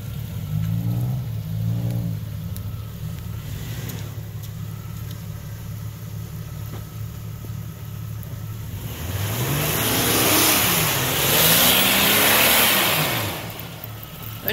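An off-road vehicle engine idles low, then punches hard and revs loudly as the front tires hit the bottom of the Elderberry Flats trail, the surge rising and falling over several seconds nearby.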